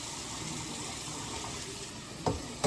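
Steady running water flows over rice being rinsed in a home kitchen, with a couple of brief splashes or knocks near the end.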